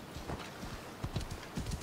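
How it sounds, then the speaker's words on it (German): Horse hooves clip-clop in the video game Assassin's Creed Odyssey, a quick, steady run of close, muffled hoofbeats over ground. "Pferdchen."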